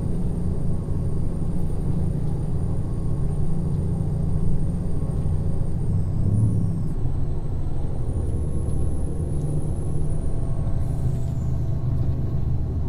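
Kenworth T908 truck pulling a cattle road train in American Truck Simulator, its engine droning loud and steady with a low rumble and a whining high tone that rises and falls midway, no talk.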